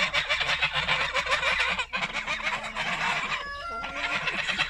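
Loud, raucous squawking from a close rooster, harsh overlapping calls that continue throughout, with a brief pause partway and some honking tones.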